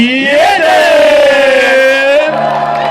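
A crowd at the wet T-shirt contest of the Łódź University of Technology student festival lets out a loud, sustained collective cheer. It is a rising chorus of whooping voices, close and loud, that tapers near the end.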